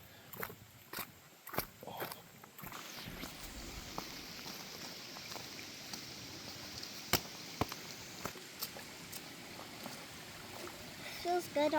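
A creek flowing beside a wide gravel road on a trail in Floyd County, Virginia, producing a soft, continuous rushing wash; faint footsteps and scattered knocks come early, and a person talks quietly near the end.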